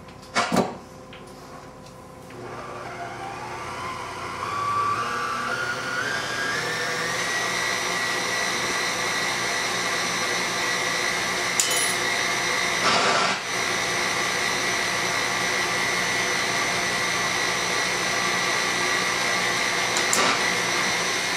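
An electric mixer starts up and whines at a steady high pitch while it beats egg whites with sugar and cream of tartar for an angel food cake. The motor runs continuously and loudly, with brief knocks against the bowl.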